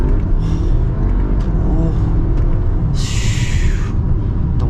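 A 2024 Audi Q5 e-tron electric SUV accelerating with regenerative braking, a steady close cabin rumble of road and motor noise with a brief bright hiss near the end.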